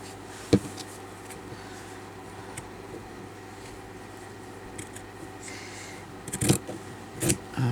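Scissors snip off thread after hand stitching on calico: one sharp click early on, then a cluster of quick snips near the end, set against a faint steady background hum.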